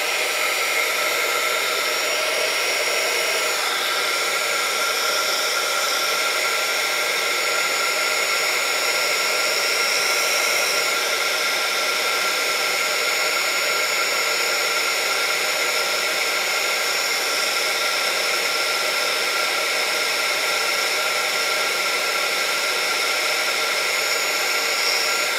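A handheld heat tool blows steadily over freshly painted watercolor on paper, a loud, continuous broadband whir like a hair dryer that runs without pause for the whole stretch, with no voices.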